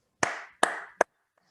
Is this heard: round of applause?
yes